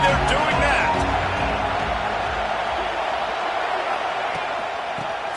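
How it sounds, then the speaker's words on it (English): Stadium crowd roaring in College Football 26 during a Michigan at Ohio State game, a steady, loud wash of cheering that holds throughout with a commentator talking over it. "Challenge this crowd to bring the energy, and I'd say they're doing that."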